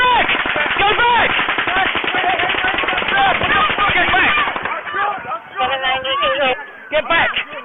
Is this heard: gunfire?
yes